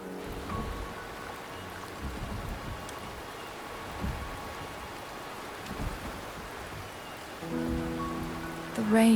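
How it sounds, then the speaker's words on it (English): Steady light rain falls in the video game Wuthering Waves, a soft continuous patter with occasional faint droplets, calm and even, while a few brief musical tones rise near the end. "rain is subsiding, and the sky will soon clear."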